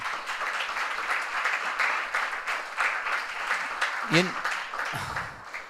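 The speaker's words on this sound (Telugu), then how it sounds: "ఒకసారి గట్టిగా చప్పట్లు కొట్టండి." A congregation at a Telugu church gathering claps loudly together, a dense, steady burst of applause lasting several seconds with a voice breaking in briefly near the end.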